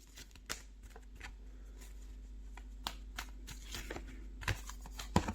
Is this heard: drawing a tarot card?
yes